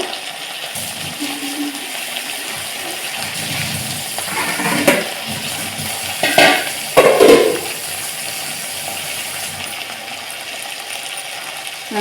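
Cut thutu vegetable tipped into a pan and stirred, a steady background hiss broken by a few clattering bursts as the pieces land and the spoon scrapes, close-up with no talk.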